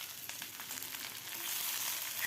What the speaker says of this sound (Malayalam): കടുക് പൊട്ടിക്കഴിഞ്ഞാൽ അരിഞ്ഞിട്ട് ബീൻസ് ഇട്ട് കൊടുക്കുക